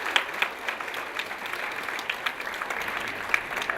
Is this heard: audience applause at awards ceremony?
yes